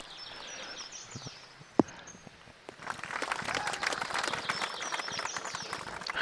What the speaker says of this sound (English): Half-hearted applause after that thunderous roar for my shot